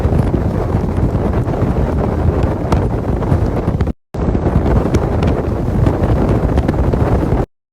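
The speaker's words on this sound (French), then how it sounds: "il y a énormément de vent aujourd'hui." Strong wind on a road trip toward Luxor in Egypt buffets the microphone in a loud, continuous roar that cuts out briefly once, with no voices.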